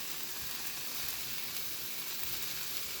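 Onions fry for risotto in a pan on an electric stove turned up to high heat, giving a steady, even sizzle that stays close and continuous with no talk over it.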